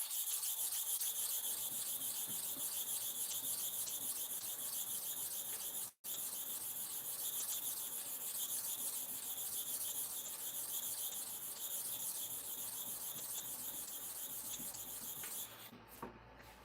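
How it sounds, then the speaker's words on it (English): Barber's blade being sharpened, a continuous close rasping, rubbing scrape repeated in steady strokes for many seconds, with a brief pause partway through and no talking. "So I'm going to repeat the sharpening for here."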